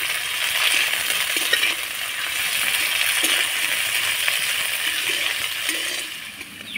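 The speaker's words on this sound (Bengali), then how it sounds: "এবার একটু নাড়াচাড়া করে ভেজে নেব সবজিগুলোকে।" Chopped capsicum and tomato stir-fried in a pan for chowmein give a soft, continuous sizzle with occasional light clinks of a spatula against the pan, heard close.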